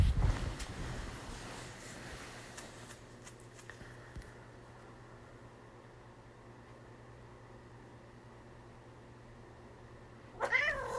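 A house cat meows close by in a quiet indoor room, with a short call near the start and another near the end over a low, steady hum.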